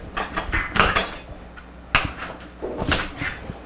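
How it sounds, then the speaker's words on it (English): Carrots chopped with a knife on a cutting board for Hungarian goulash, heard as a series of sharp, close knocks and thuds in an uneven rhythm with brief pauses between cuts. "it's a good time to chop up your vegetables. We're going to use a couple carrots here."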